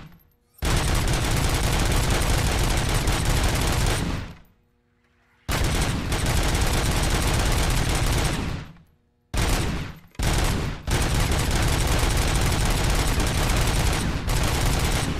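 Rapid bursts of pellet-gun fire from Robocop: Rogue City roar out loud and close, several long sustained volleys separated by brief silent gaps, with no talking.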